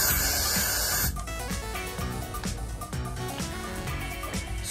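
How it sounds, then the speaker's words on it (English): A steady aerosol spray hisses loudly for about a second, then cuts off, leaving quieter background sounds. "Let me spray some holding spray."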